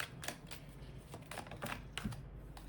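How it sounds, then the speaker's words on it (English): Quick papery riffling clicks, a few short bursts of cards being shuffled close by, with soft ticking between them. "I'll shuffle a few cards"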